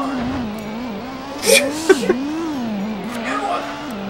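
A race car engine in the Gran Turismo video game, its steady tone rising and falling with the revs across a few seconds, with a couple of brief clicks partway through.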